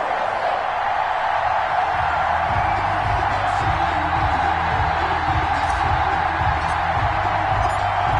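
Steady stadium crowd roar in an EA Sports NFL video game, New York Jets against New England Patriots, a continuous broad wash of cheering with faint whoops, loud and unbroken throughout.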